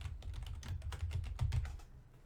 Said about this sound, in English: You click on that, and you can simply start typing anywhere.